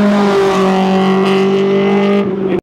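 A Honda S2000 sports car at a car show, engine held at a high, loud, steady rev with strong harmonic whine for a couple of seconds, then cutting off abruptly.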